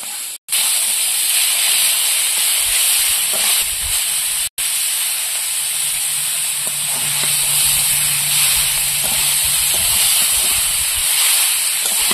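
Banana stem tipped into a hot pan of mustard oil where prawns have just fried, giving a loud, steady sizzle that runs unbroken through the whole stretch, with two brief dropouts near the start.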